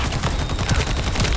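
Assault rifle firing in The First Descendant, a rapid continuous stream of shots blurring into one another, loud and dense across the whole short stretch with no talk.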